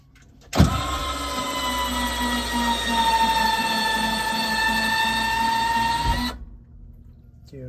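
The electric retraction mechanism of a SeaRey aircraft's tail gear runs as a steady mechanical whine of about six seconds, starting with a sharp thump and cutting off abruptly, close and fairly loud, with no talking.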